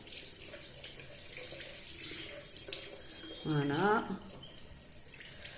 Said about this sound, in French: Je vais essayer de le laver sous l'eau comme ça.